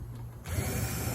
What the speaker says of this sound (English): These pieces come off fairly easy, just with the drill.